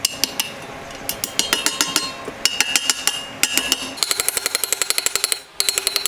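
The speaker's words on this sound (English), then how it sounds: "now we gotta get our certified bottom bracket installer, which is just a hammer" A hammer taps a bottom bracket into a bicycle frame, making sharp metallic clinks in quick, irregular runs close by, with the pace speeding up toward the end.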